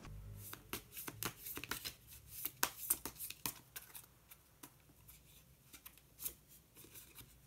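A tarot card is drawn from a deck with quiet, close papery shuffles and flicks, a scatter of faint crisp card sounds over a low, hushed background.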